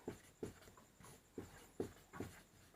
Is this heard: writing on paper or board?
yes